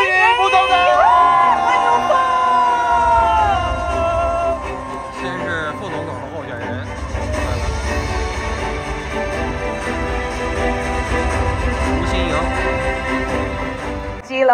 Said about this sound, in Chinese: 让我们掌声欢迎台湾阿力吴欣盈副总统。